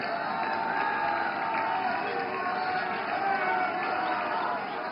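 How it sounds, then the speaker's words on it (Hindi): A large standing audience at a political gathering after an election victory in Delhi applauds and cheers for the Prime Minister, a dense, steady wash of clapping and shouting that stays loud throughout. "जोरदार तालियों से खड़े होकर स्वागत कीजिए माननीय प्रधानमंत्री जी का"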